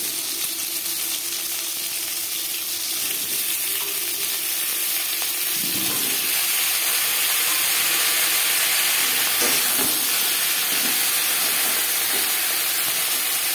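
Pointed gourd (potol) frying in two spoons of hot refined oil, a steady broad sizzle and hiss running throughout, with a few soft stirring clatters near the middle and no talking.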